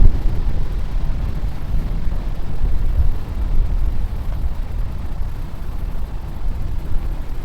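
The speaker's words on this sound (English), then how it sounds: "Especially with the wind in our face." Steady wind buffeting across an open lake shore, a loud, continuous low rumble with gusty fluctuations and no voices.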